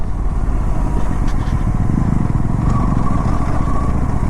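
An RS 457 motorcycle engine runs continuously and loud during an extreme off-road ride, a dense close-up drone with rough rattling texture and a faint rising whine near the end, with no voices.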